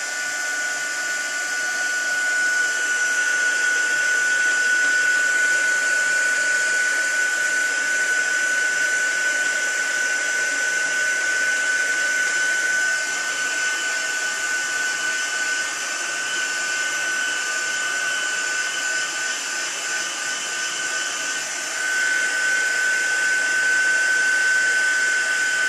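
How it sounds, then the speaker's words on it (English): A heat gun blows continuously with a loud, steady roaring whine that holds without pause for the whole stretch. "I'm going to start off my heat gun."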